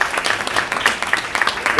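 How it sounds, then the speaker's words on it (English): Brief burst of audience applause at the launch of a national drama festival, many hands clapping densely and fairly loud, with a voice faintly audible beneath. "I think we should give a round of applause."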